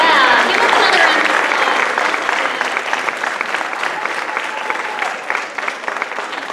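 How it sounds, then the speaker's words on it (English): Audience at a Miss Harvest Homecoming 2019 pageant gives a loud, sustained round of applause, dense clapping that tapers slightly toward the end. "give us another round of applause."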